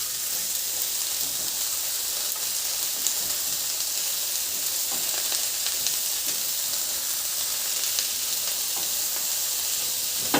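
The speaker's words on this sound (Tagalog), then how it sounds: "itabi ko muna yan sa kawali at ilagay ko na yung sibuyas. Ilagay ko na rin yung carrots." Onion and carrots fry in a pan with a dense, even hiss of sizzling oil that holds steady throughout, close and moderately loud, with a few faint stirring ticks and no voices.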